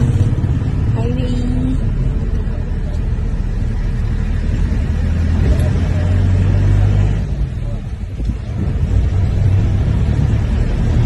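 A vehicle pulls out onto a highway with a steady, loud engine and road rumble throughout, briefly dipping and then resuming, as someone talks over it.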